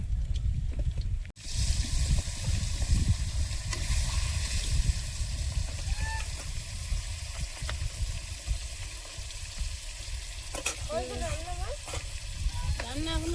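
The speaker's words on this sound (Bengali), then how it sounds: "মাছগুলো ভেজে নিয়েছি আর বাকি কটাও ভেজে নেব" Pieces of fish fry in a pan with a loud, continuous close-up sizzle that fills the whole stretch, broken by a brief dip early on and a few faint squeaky sounds near the end.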